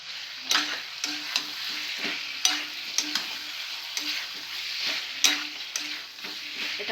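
Ground nut paste fries in a pan for Mughlai chicken, soft sizzling broken by repeated scraping strokes of a spoon in an uneven rhythm.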